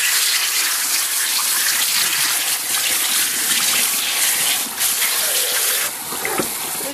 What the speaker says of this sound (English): So let's rinse it off and see what we've got.